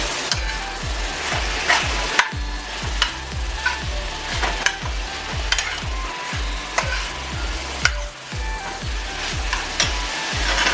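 Sausage meat sauce cooks in a covered pot on a medium stovetop, giving off a steady sizzle while a utensil scrapes and stirs in repeated rhythmic strokes, close up with no voices.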